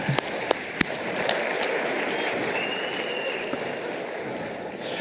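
An audience at a 2023 Orlando health talk applauds in a steady, dense wash of clapping, a few sharp louder claps near the start, sustained evenly throughout.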